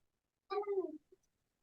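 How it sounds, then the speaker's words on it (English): A cat gives one loud, falling meow lasting about half a second, heard in a recording played during an English lesson, with silence before and after. "Cat was meowing very loudly."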